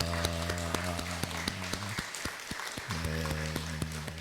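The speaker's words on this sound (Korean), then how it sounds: "우리 두 네 분 감사 그리고 위로 격려의 박수 하겠습니다" Light clapping from a congregation during a Korean church Sunday service, scattered and moderately quiet over a sustained low tonal drone.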